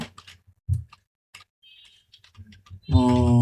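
A few scattered computer keyboard keystrokes tap out a bot username in short irregular clicks, followed at the end by a steady tonal hum.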